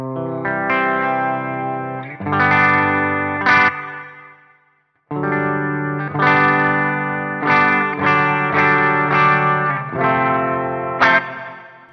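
An electric guitar played through a Meris Mercury X reverb pedal rings out in chords with long, lush reverb tails that swell and sustain, with a short gap of near silence midway before the strummed chords return.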